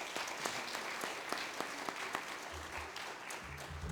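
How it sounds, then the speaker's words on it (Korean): Applause from a congregation at a church revival meeting, a dense even patter of many hands clapping, rather faint and distant, with a low hum underneath. "지금 목사님 나오실 때 한번 크게 격려 감사 박수 올립니다"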